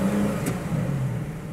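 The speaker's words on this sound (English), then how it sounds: "they have stuck with this beautiful engine start button, which glows red when you put your foot on the brake" An Aston Martin DBS Superleggera fires up nearby: a brief starter burst gives way to a loud, full idle rumble that holds steady and eases slightly toward the end.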